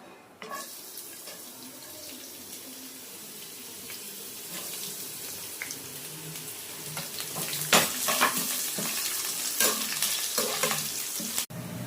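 Cut vegetables sizzle and crackle steadily in hot oil in a pan with whole spices for chicken fried rice, close and continuous, with occasional scraping stirs and sharp spatters growing louder toward the end.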